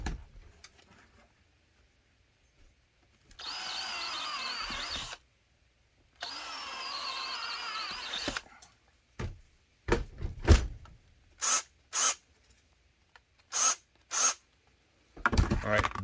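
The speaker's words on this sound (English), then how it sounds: "I'm going to drill that." Power drill boring holes into a rubber holster thumb break, two sustained whining runs of a couple seconds each, followed by several short bursts and triggers, close by with quiet gaps between.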